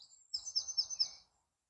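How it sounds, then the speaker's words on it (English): A single small bird gives a quick run of about five high, bright chirps in the early morning by a fishing spot. The phrase is brief and faint against near silence. "The birds are going bananas."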